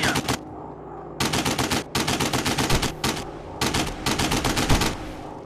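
Rapid machine-gun bursts fired at a WWI fighter plane in the War Planes game, several loud sustained volleys separated by short gaps, close and dense with no talking.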